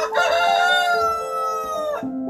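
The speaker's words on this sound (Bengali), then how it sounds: "ভোরবেলা মোরগের ডাকে এখানে ভাঙে ঘুম" A rooster crows one long, loud cock-a-doodle-doo at dawn in a hill village near Kalimpong in North Bengal, close by and with no talk over it.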